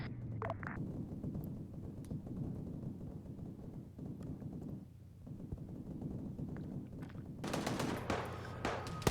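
Gunfire rattles in a shooter video game under attack from a tower, steady crackling shots and bursts over a low rumble, growing louder toward the end, with no speech.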